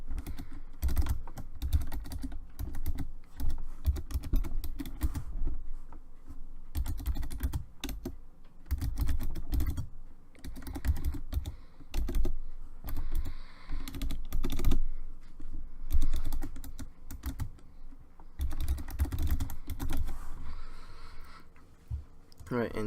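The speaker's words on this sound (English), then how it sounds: "So we're gonna just start typing." Typing on a computer keyboard while building a ProPresenter 4 slideshow for a youth group, quick irregular bursts of key clicks close by with pauses between runs, and no one talking.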